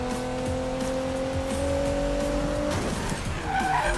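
A car drifting in the Need For Speed 2015 video game, a sustained loud tire squeal over a revving engine, ending in a rougher skid as the drift breaks.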